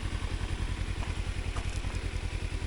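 A Kawasaki Versys X-300 parallel-twin motorcycle engine crawling in first gear on an Oregon backcountry trail, a steady low rhythmic thrum with some clatter, close and continuous.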